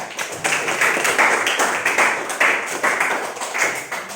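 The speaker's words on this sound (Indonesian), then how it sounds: "Kasih tepuk tangan untuk kelompok 4" Students in a classroom clap for their discussion group, a fairly close, uneven burst of many hands with rhythmic surges and small pauses throughout.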